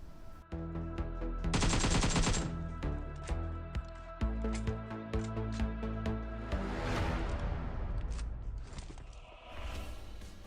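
Automatic and single gunfire from a PUBG Mobile duo match, with a dense burst of rapid shots early on followed by repeated loud shots and impacts throughout, close and continuous with no speech.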